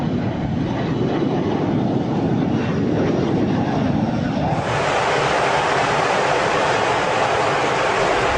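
Jet engines of a Boeing KC-135R tanker aircraft, re-engined with larger, higher-thrust engines, give a loud, steady broadband roar that grows brighter and harsher about halfway through as the power rises, continuing without pause.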